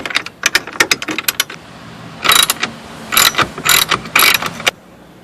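Ratchet clicking while backing out bracket screws during an intake install on a 2013 Hyundai Genesis Coupe 3.8L; quick sharp ratcheting bursts with short pauses, then denser rapid clicking runs, close and loud.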